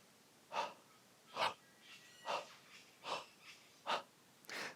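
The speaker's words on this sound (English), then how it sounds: "So when I breathe in" A singer draws a series of deep, audible breaths, about seven short airy inhalations spaced roughly a second apart, close and quiet with no talking.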